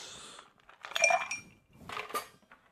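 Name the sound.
ice being added to a cocktail glass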